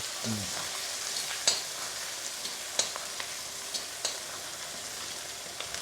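Onions sauté with a continuous hiss in a pan at a food cart making red tomato-onion chutney, with scattered clicks and taps from stirring.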